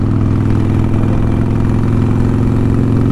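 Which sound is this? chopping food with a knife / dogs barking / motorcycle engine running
motorcycle engine running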